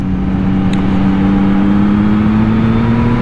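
A 2021 Yamaha MT-09 SP motorcycle accelerates with a loud, close engine note that climbs steadily in pitch as the revs rise smoothly, with no speech over it.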